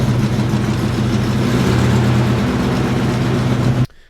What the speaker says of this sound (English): All right, so it's still running pretty rough.